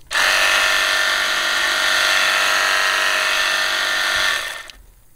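A VEVOR cordless power washer sprays through a turbo nozzle, a loud steady hissing rush that holds for about four seconds, then cuts off and fades quickly.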